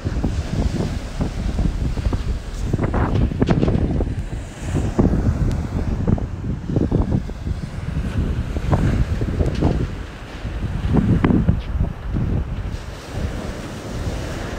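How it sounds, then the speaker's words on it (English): Sea waves surge and crash at high tide along the Jaywick shore, with strong wind buffeting the microphone; a loud, continuous roar rises and falls in irregular swells throughout, with no voices. "we have come here to see the high tide, to see how far it has come up."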